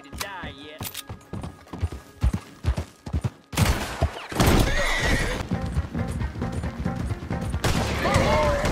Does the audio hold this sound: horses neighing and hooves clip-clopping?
yes